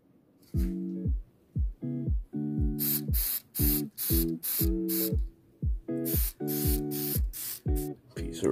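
Short spray bursts coat a brake pedal on a 212cc vintage Manco Dingo, with choppy, repeated pulses of low humming and bright hissing close by.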